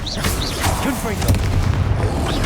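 Confringo blasting spell explosions in the Hogwarts Legacy video game, loud booming bursts layered over continuous shouting and talk.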